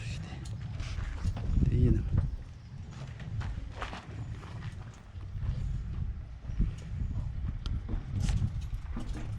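Horse hooves clip-clop at a steady walking pace at a horse sale in Ukraine, with people talking and outdoor background noise throughout.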